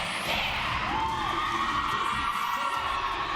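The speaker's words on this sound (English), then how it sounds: "We're hearing the cheer over the music." At a high school game, a crowd cheers and shouts in a dense, continuous roar, with children's whoops rising above the noise and music.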